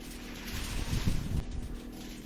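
A person blows across a sheet of foil, making a soft, breathy rushing hiss that swells and fades over a couple of seconds, imitating hot Serengeti wind.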